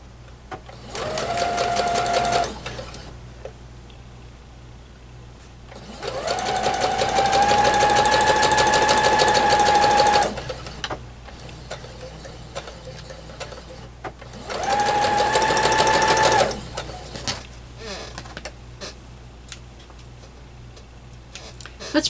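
A sewing machine stitches a quilt block seam in three runs of fast, steady needle chatter, loud and close, separated by quieter pauses with light handling sounds.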